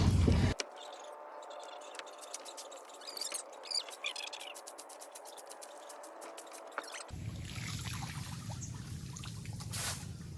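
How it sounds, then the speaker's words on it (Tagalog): Water trickles and drips as a fishing net is washed by a river, a series of small splashes and patters close by, followed by a fuller, steadier wash of water near the end. "Nuhugasan po ni bossing yung lambat para maputi uli."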